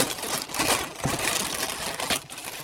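A plastic bag crinkles and rustles continuously as a parcel is packed, close and fairly loud, with handling noises throughout and no talking.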